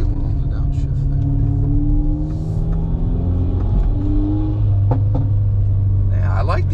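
A VW Golf R MK8 with an 034 Stage 1 tune rumbles loud and close, engine tone shifting through revs with several sharp exhaust pops and crackles on the downshift, voices talking over it.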